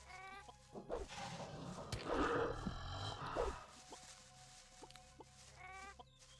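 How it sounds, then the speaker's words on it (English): Chickens in the video game Gothic 1 cluck in several short, repeated bursts, with a louder flurry of scuffling and squawking in the middle, fairly close and without any talk. "Stupid chickens."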